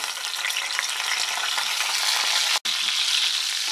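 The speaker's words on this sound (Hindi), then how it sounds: "गोभी को हम लाइट ब्राउन होने तक भून के तैयार करेंगे।" Cauliflower florets fry in hot cooking oil in a kadai for masala khichdi, a dense, continuous close-up sizzle that cuts out for an instant and then resumes, with nobody speaking.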